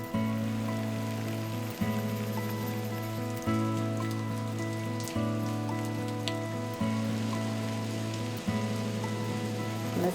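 Rain falls steadily after wildfire damage to an orchard, a constant close wash of drops beneath a droning, regularly pulsing steady tone, with no talking.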